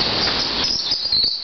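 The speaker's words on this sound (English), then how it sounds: "And another bird." A bird calls inside the Roath Park Conservatory, a steady stream of high, bright chirps that carries on without pause and is heard alone.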